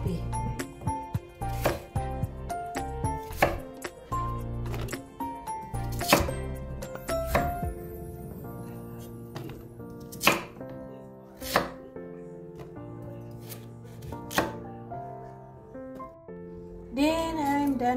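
Knife chopping sweet potato on a board, a long series of sharp, irregular cuts that are close and clear, with music playing and a brief voice near the end.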